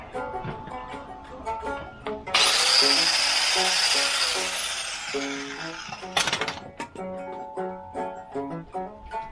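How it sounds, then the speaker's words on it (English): A cutting tool shears through the leaf spring of a small trailer axle in a loud, harsh, high-pitched burst lasting about four seconds, set between quieter tonal background sounds. "shear off a piece of spring, leaf spring off this little trailer axle right here"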